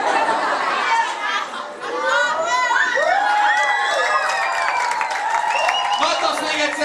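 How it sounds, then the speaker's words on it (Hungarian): A crowd at a live Hungarian show cheers and shouts with some applause, children's voices rising above a busy, continuous wash of chatter. "Nagy taps még egyszer Exhibitnek és Kangalainek."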